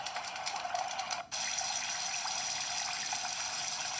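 A kids' cat alarm clock sound machine plays its water sound, a steady hissing trickle with a brief dropout near the start, fairly quiet and with no voices.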